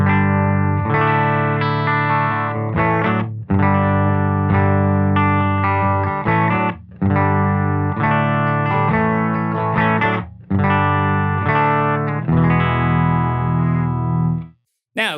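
A Sife Guitars OH20 electric guitar plays through a Silktone Astro amp with the volume and EQ set at noon. Strummed chords ring out loudly and close in repeated phrases, separated by brief gaps.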